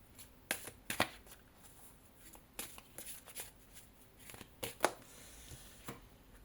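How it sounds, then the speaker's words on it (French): Playing cards drawn from a deck for a reading, heard as faint, sharp flicks and slides scattered irregularly across a quiet room. "je vous propose de retirer deux cartes"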